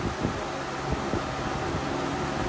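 Lasko metal box fan running on medium, a steady broadband whoosh of moving air with a faint low hum, continuous and even throughout.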